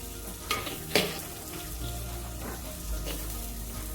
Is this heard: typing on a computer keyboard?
no